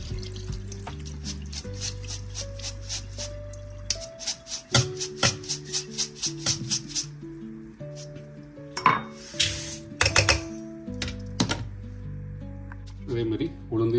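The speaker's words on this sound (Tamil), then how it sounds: "பாருங்கள், இந்த மாதிரி ஒரு சலடை வாங்கி கழுவிக்கிறது." Metal clinks and clatters of a steel strainer while washing grains and urad dal, with running water between rhythmic taps, under a person talking.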